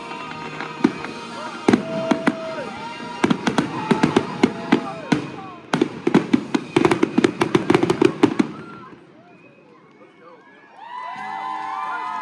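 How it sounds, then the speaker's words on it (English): A fireworks finale at the Worlds of Fun amusement park fires off dense, rapid bangs and crackles over crowd noise, then stops and the crowd breaks into cheering and whoops. "Enjoy the fireworks as they hit their finale."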